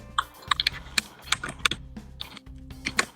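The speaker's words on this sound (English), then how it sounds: "I can hear keyboard noises" Computer keyboard typing with irregular bursts of sharp clicks over a low steady hum, close and clear, during a From the Depths game building session, with no talking.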